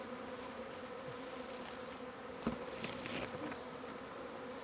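A large swarm of honey bees drones in a continuous, even buzz, fairly distant and soft, with a few individual bees passing closer near the middle.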